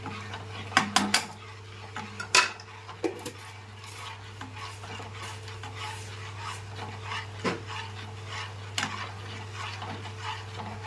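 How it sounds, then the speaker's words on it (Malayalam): Red nellikka moru curry being stirred in a pot, with a spoon clinking and scraping against the metal in irregular bursts over a steady low kitchen hum. "നല്ല രീതിയിൽ മിക്സ് ചെയ്ത് കൊടുക്കാം."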